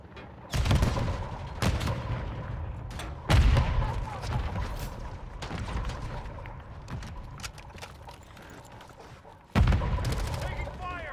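Gunfire in Call of Duty Modern Warfare 3, with sharp loud bursts near the start and again later over a constant battle din, while a player talks over the shooting.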